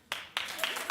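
A television talk show studio audience breaks into brief, loud clapping that swells and continues steadily, with bursts of sharper claps over the crowd noise.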